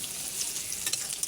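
Onion and garlic fry in a pan for a curry, a steady close sizzle with light crackles and no voices.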